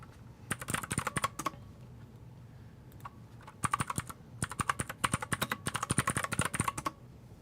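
Typing on a Redragon computer keyboard, with crisp clicky keystrokes in quick irregular bursts and short pauses, close up and fairly quiet, with no talk.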